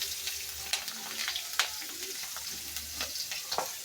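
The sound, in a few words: onions and green chilies frying in oil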